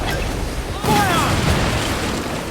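Ship cannon fire in Assassin's Creed Black Flag, a sudden booming blast midway that rumbles on, with a shouted voice nearby.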